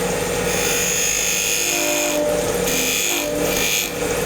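A skew chisel cuts a dovetail tenon on olive wood spinning on a lathe, giving a loud continuous scraping rasp with a steady motor drone and slight changes in pressure.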